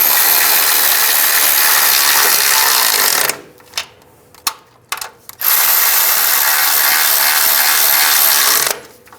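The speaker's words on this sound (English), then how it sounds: "Now I'm going to tighten all these down." Ratchet tightening nuts on a front strut and spring assembly for a 2005-15 Nissan Xterra: loud, rapid continuous clicking up close, broken by a short pause with a few isolated clicks before the ratcheting resumes.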